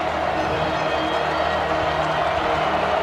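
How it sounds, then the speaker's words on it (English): Dense stadium crowd roar at an Oklahoma vs. Alabama college football game, a steady, loud wash of voices holding level throughout with no distinct cheers standing out. "Listen to this crowd."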